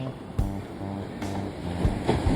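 Ocean surf near Gaviota beach on the Santa Barbara coast makes a constant broadband rush, with a few louder wash surges and gusty wind noise on the microphone.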